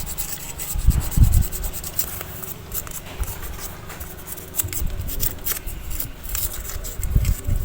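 Sandpaper scrubbing the dirty spark plug of a lawn mower that has sat unused for a long time: close, scratchy rubbing strokes in uneven bursts, louder at moments, with no talking.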